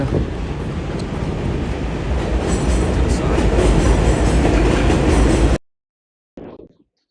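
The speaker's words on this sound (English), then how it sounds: "All right, there goes the train." A train in the Bronx, New York City, rumbles past close by with steady rolling clatter for several seconds, then cuts off abruptly, followed by a brief faint bump.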